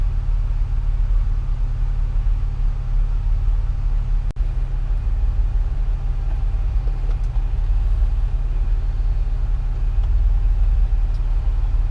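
A Chevrolet Impala with a GM 3800 engine drives down the road, giving a steady low rumble of engine and road noise heard from inside, with one brief knock near the middle and no talking.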